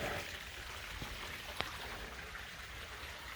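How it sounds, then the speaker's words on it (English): Running water near the outside of a house, a faint steady hiss of flow with a couple of small drips or knocks, heard alone without talking. "And I hear water."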